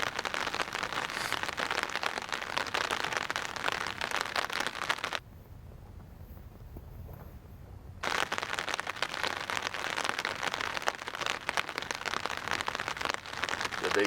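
Steady rain patters down on a golf course during a wet tournament round, a dense continuous hiss with one brief quieter gap in the middle.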